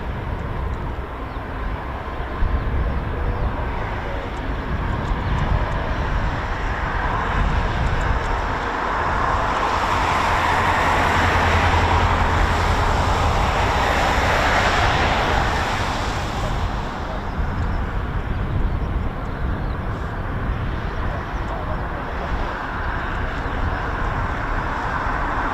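Military aircraft engines spool up at RAF Lossiemouth, a broad distant roar that swells to a peak midway and then eases, steady and unbroken in hazy open air with no talk.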